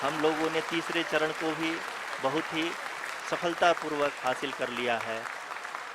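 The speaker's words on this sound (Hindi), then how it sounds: "आप तालियों के गड़गड़ाहट से सुन सकते हैं कि" Applause and cheering fill ISRO mission control during the Chandrayaan-3 lunar landing, a steady wash of clapping running beneath someone commentator speaking continuously over it.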